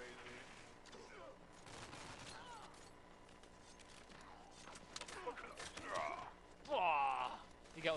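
Gunfire in the video game Army of Two: The Devil's Cartel, with bursts of shooting and impacts that grow louder toward the end, mixed under people talking.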